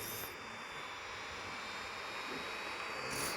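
Steady jet engine roar and rushing wind from an F-22 fighter flying through a hurricane in a flight video game, loud and continuous throughout.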